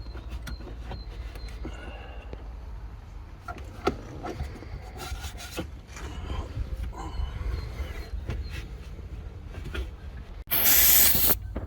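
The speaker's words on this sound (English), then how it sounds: "This glue we got here is like a special spray glue for actually putting in the carpet." Spray glue hisses from a can onto a 21-year-old van's floor while carpet is fitted, short bursts and rubbing, creaking handling noises building to one loud, sustained spray near the end, with no talk.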